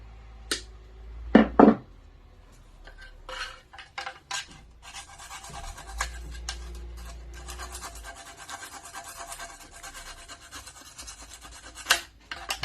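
Fiberglass rocket parts being scratched up for prep, with a few sharp knocks at the start followed by sustained dry rasping and scraping strokes, close and moderately quiet.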